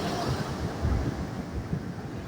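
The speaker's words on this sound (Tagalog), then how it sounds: "Kasi palakas na, palakas yung alon." Sea waves surge and wash in at high tide on a shore, a continuous rushing roar with gusty wind buffeting the microphone.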